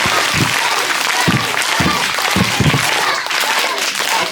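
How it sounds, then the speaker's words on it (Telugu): Students in a classroom clap together in a sustained burst of applause, loud and close, with a few louder bursts of claps along the way. "చప్పట్లు కొట్టాలి క్లాస్తో."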